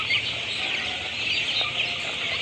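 Chickens on a rural Bangladeshi broiler parent stock farm make a dense, steady chorus of clucking that carries on throughout without pause, with no voices.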